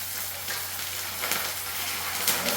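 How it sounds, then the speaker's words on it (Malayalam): Curry leaves sizzle in hot oil for mango pickle, giving a dense, continuous frying hiss and crackle with a low steady hum underneath and a few brighter pops. "കുറച്ച് കൂടുതലാണ് ഞാൻ കറിവേപ്പില ചേർത്ത് കൊടുക്കുന്നത്"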